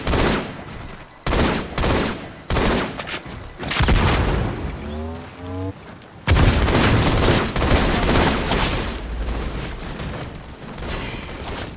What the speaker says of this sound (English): Bomb planted. Detonation.